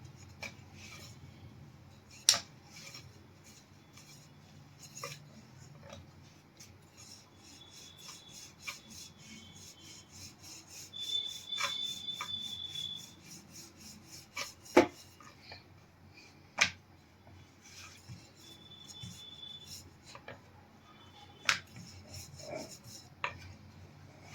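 A rolling pin rolls out stuffed aloo paratha dough on a board, giving soft, steady rasping rubs with a few sharp clicks and taps scattered throughout, close and fairly quiet, with no talking.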